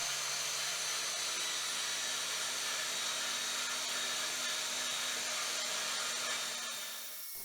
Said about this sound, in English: Don't know how I ever coped without having this little bandsaw.